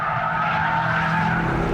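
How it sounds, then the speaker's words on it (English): Pagani roadster corners tail-happy with its tires skidding, a loud sustained squeal over the steady roar of the engine lasting under two seconds. "Tail-happy cornering thanks to computers that split the torque between the rear wheels to minimise understeer."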